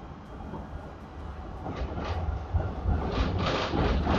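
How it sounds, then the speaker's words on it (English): A loud tram rumbles along its track, a steady low roar that builds and grows louder and rougher toward the end, with no voices. "This tram is loud."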